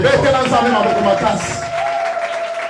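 A church congregation claps and cheers loudly during a lively worship service, sustained applause mixed with crowd voices and music throughout.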